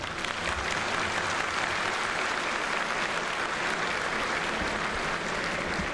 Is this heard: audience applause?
yes